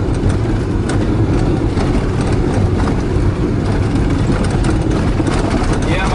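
A car engine held at high RPM in first gear gives a loud, steady, unbroken drone with a dense rumble throughout.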